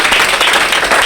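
A crowd at the opening of an amusement park in Bhagalpur bursts into dense, loud applause, a brief continuous wash of many hands clapping together.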